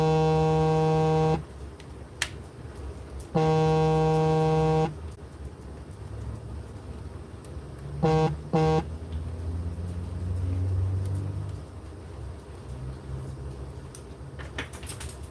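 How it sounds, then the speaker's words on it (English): A phone buzzes with an incoming call indoors, two long steady tonal buzzes followed by a pair of short bursts, with quieter mechanical background noise between them. "That's a phone call. Somebody's calling."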